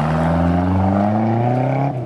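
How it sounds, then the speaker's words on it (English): A repaired car engine runs steadily and loudly at close range, its droning tone rising slightly in pitch as it revs, with no talk over it. "Look, your car's running again"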